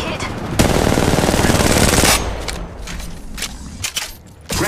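Rapid automatic gunfire from Apex Legends Mobile rattles out in a dense burst for about a second and a half, followed by scattered sharper shots and clicks in the mobile battle royale.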